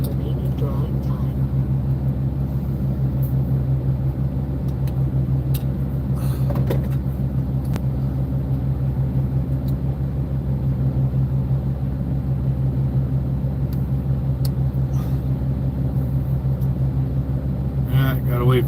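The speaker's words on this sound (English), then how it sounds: "APU just kicked on. I gotta wait a little bit for it to charge up." Truck auxiliary power unit running, a steady low engine rumble and hum that continues without a break, loud and close, with occasional faint clicks inside the cab.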